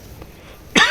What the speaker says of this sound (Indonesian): saya masih batuk ini ya.